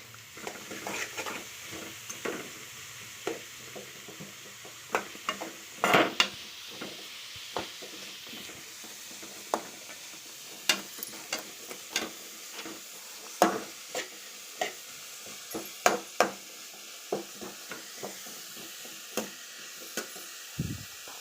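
Food being sautéed and stirred in a pan with coriander added for home-style Tamil cooking, a steady soft sizzle broken by frequent sharp scrapes and clacks of the spoon against the pan, close and alone with no talk.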